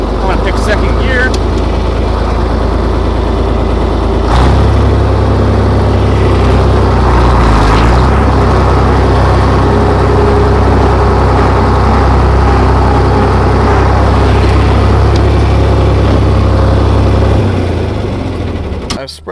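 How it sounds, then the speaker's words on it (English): A John Deere tractor running a Conestoga manure spreader, a loud, close, steady engine drone that deepens as the load picks up a few seconds in and holds until it drops off at the end. "I've got this nice John Deere up here that we're going to run"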